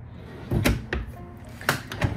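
Drawers in a Flagstaff Classic fifth wheel RV slide and bump shut, several sharp thuds and clunks at uneven intervals over a low background rumble, fairly close.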